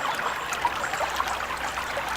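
Water streams and trickles steadily in a continuous close wash, with no voices.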